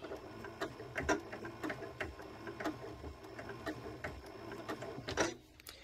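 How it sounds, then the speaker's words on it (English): A sewing machine stitching fabric for a tuffet, a steady quiet mechanical chatter with regular ticking clicks, close and continuous without speech. "we're going to just sew on down the same way we did the other side"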